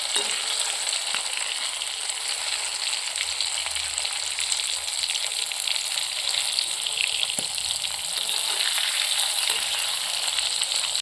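Steady, close sizzling and crackling of fish frying in a hot pan, a constant hiss with occasional pops, no voices.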